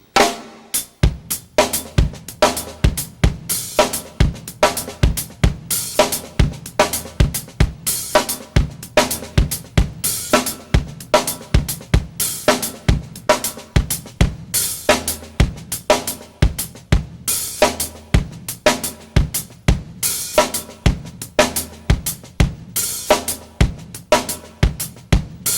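A drum kit locks into a repeating one-bar groove from a drum solo, played at a slowed tempo with steady sharp hits and busy cymbal or hi-hat work, close and loud, no talking.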